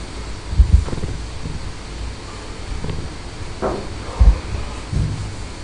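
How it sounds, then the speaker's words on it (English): Gusty wind buffets the microphone, with low rumbling thumps rising and falling in several bursts. "That is windy."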